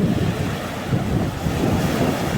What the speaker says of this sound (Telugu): ఇక్కడ బీచ్ అంతా చాలా అందంగా ఉంటుంది